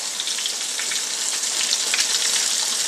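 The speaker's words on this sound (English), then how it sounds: "So I have all 4 pieces frying" Four pieces of flour-coated chicken fry in hot oil, giving a steady, dense crackling sizzle, close and unbroken with no talk.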